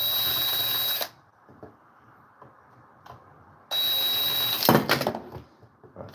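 A power drill backs out the long screws on a chainsaw being restored, giving two loud whirring bursts separated by a quiet pause filled with light clicks and handling noises.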